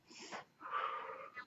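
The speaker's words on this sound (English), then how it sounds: "you would kind of just breathe out" Forceful breaths pushed out through the mouth during a core workout of abdominal reps, three short bursts with a longer one in the middle, close and clearly audible.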